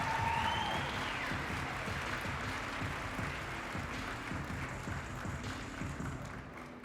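Audience applause at an awards gala, steady and moderately loud, gradually fading toward the end, with a brief tone at the start.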